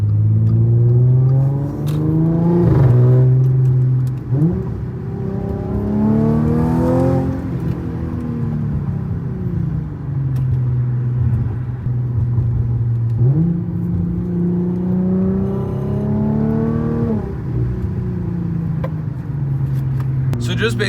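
An Audi S5 fitted with an AWE S-FLO carbon intake accelerates through several gears on a hot road, and its mid-pitched engine note rises and drops at each shift. The engine is heard from the cabin, with talk over parts of the pulls.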